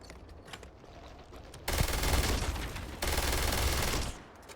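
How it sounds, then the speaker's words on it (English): A machine gun fires in a video game: two long, loud, sustained bursts of rapid gunfire, close and dense, separated by a brief break and preceded by quieter game sounds. "I love the gun sounds."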